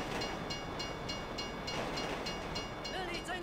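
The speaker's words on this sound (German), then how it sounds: "If you were local, you'd know the train comes by right now." Train rolling past in Grand Theft Auto V, a steady dense rumble with faint clatter holding at constant loudness for a few seconds, no talk over it.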